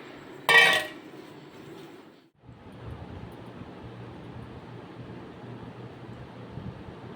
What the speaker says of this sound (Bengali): সয়াবিনটাকে এবার একসাথে সব মাখিয়ে নেবে